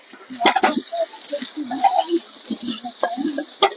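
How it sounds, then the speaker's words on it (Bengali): Soybean chunks sizzle and crackle in a hot pan, with stirring scrapes and clinks breaking through irregularly; close and moderately loud. "সয়াবিনটা ভাজবো এদিকে।"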